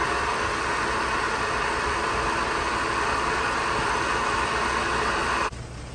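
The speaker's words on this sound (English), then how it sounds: "Here I am machining the cylinder decks." A Bridgeport mill with a boring head cuts the cylinder decks of a junkyard Harley Knucklehead, a loud steady whirring drone that runs unbroken and drops off just before the end.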